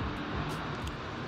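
A broad, steady roar of an aircraft passing overhead, loud and continuous with no talking.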